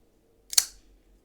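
A small knife's flipper tab is pushed up, giving one sharp, quiet click with a short metallic ring that fades fast, alone in a near-silent room.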